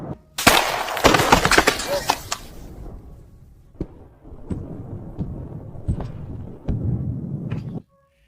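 A tree trunk bursts as its sap freezes, giving loud gunshot-like cracks and booms at the start, then scattered fainter snaps and pops over a rumbling background.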